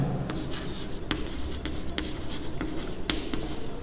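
Chalk or marker scratching across a board during a coordinate geometry lesson, a run of short strokes and taps at close range against a steady room hiss, with no talking.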